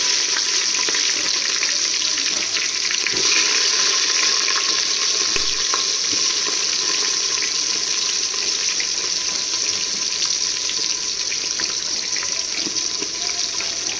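Onions fry in a pan for bagara rice, giving a steady, loud, close sizzle with crackling that holds evenly throughout, plus an occasional faint scrape of stirring.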